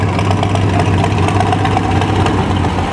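Loud, steady idle of an Oliver tractor engine with an enclosed engine and custom twin exhaust pipes at a cotton gin festival, a close, even low rumble with no talk.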